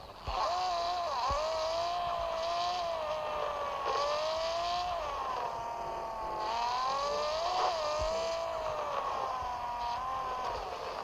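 A BMW M4 races around a track in a video game, its engine a steady, loud whine that rises and falls with shifts and revs across the whole stretch, alone with no talk.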